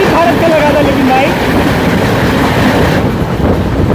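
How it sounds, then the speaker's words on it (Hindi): The Lichchavi Express (14005) passenger train, hauled by an Amrit Bharat locomotive, approaches on the line with a loud, steady rumble and rhythmic clatter of wheels on rails close by. "सामने से कोई तो ट्रेन आ रही है, शायद लिच्छवी होगी"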